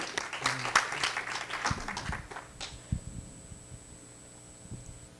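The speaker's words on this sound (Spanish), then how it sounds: "Sí, aplauso." Brief scattered applause from a small group at a talk on forest carbon fades out within a couple of seconds, leaving a quiet room with a faint steady tone.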